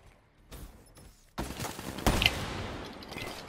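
Gunfire in a video game gun-game match, with a quiet lead-in followed by a dense burst of rapid shots and impacts that carries through to the end of the clip.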